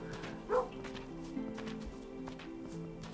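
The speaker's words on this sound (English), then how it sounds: "Bit of barking there, it's probably residual." A dog barks in the video game Kingdom Two Crowns, one short bark early on over a faint, steady game soundscape, fairly quiet and followed by low ambient sound.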